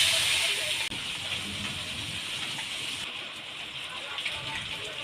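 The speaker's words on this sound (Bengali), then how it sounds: "এবার মাছগুলো হালকা ভেজে নেব।" Small puti fish frying in hot oil in a home kitchen give a loud, steady close hiss and sizzle with a brief clatter near the start, and the hiss eases slightly partway through.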